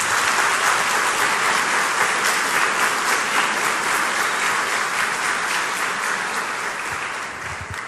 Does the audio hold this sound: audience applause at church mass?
yes